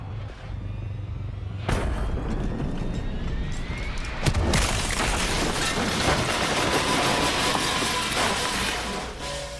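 Explosions from a plane crash in the video game Black Ops 3: a sharp blast near 1.7 s and a bigger one around 4.3 s give way to sustained loud roaring rumble and debris noise.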